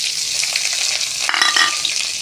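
Chopped onion sizzles in a pan with bay leaves and dried red chillies while being stirred, a close, steady hiss with a brief burst of scraping stirs near the middle.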